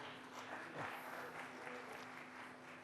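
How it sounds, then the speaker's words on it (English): Audience applause welcoming India's Foreign Secretary Harsh Vardhan Shringla at a policy talk, a faint, steady wash of many hands clapping in a large room over a low hum. "Please give him a very warm round of applause."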